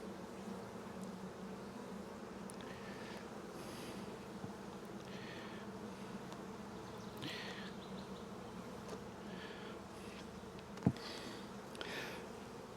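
A steady, dense hum of many honeybees buzzing at an open hive, with a soft click partway through.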